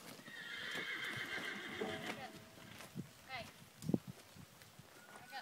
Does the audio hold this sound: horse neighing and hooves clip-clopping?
yes